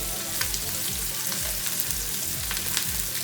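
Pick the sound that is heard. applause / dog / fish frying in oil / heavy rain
fish frying in oil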